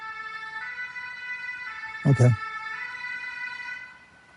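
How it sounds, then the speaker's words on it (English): An ambulance siren wails steadily in the distance as it goes by outside, a sustained tonal sweep, with a short word spoken and a brief loud thump partway through. "I don't know if you hear the ambulance going by"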